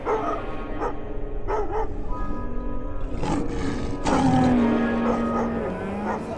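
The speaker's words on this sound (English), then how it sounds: "So when the dogs bark, they make noise, then I wake up." Dogs bark in scattered bursts against a steady rumbling background, with a long low drawn-out tone cutting through near the end.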